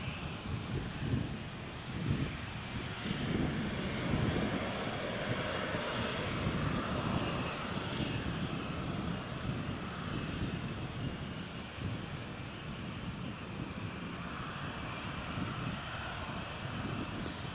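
A TUI Boeing Dreamliner takes off at Newcastle International Airport, its jet engines producing a loud, steady roar and rumble that holds for the full length, with wind buffeting the microphone in rainy weather.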